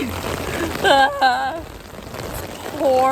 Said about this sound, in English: You can see the wind blowing the rain.